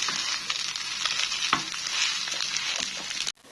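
Fried rice being reheated in a pan sizzles steadily with scattered crackles and scraping stir strokes, moderately loud and close, stopping abruptly at the end.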